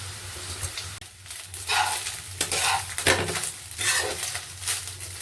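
Rice with fried vegetables is stir-fried in a hot pan, with a steady sizzle broken by repeated scraping and clinking strokes of a spatula against the metal, close and fairly loud.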